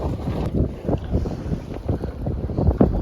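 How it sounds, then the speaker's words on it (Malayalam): Steady wind buffets the microphone with a low rumble out on open water from a fishing boat, with occasional light bumps and splashes. "അത്യാവശ്യം ചെറിയൊരു കാറ്റുണ്ട് കേട്ടോ"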